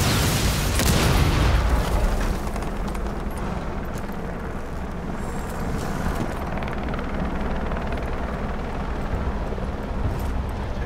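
A breaching charge blows through a reinforced wall in the Rainbow Six Siege video game: one loud, close boom at the start, followed by a sustained rumbling roar of debris and noise.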